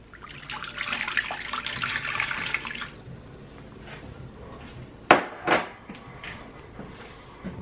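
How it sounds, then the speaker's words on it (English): Water poured into a mixer bowl while making homemade white bread dough, a steady splashing pour for about three seconds, then quiet with a couple of sharp clinks and knocks of kitchenware. "So let's add our water in."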